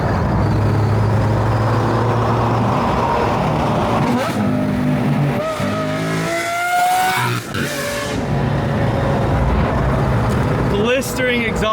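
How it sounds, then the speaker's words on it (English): Lamborghini Aventador with fully exposed carbon fiber bodywork, its exhaust roaring loud and close as the car passes by and revs, with people talking over the engine noise. "Blistering exhaust"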